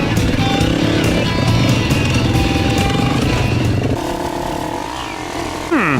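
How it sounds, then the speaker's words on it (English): A Yamaha TTR 250 dirt bike rides over rocks on a jungle trail in Cambodia, its engine loud and close with a steady buzzing drone. The throttle blips and falls away, then climbs again near the end. "Chris stops to mess around on this rock and I'm glad he's on a TTR 250"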